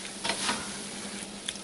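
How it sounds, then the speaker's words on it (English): Tomato paste being stirred into stovetop chili in a pot over low heat, a brief soft scrape and faint sizzle, quiet and close, heard alone. "Add the can of tomato paste. Give that a brief stir."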